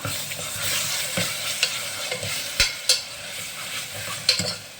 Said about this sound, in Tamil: நல்லா வந்து பச்சை வாசனை போகிற வரைக்கும் வதக்கிக்கலாம்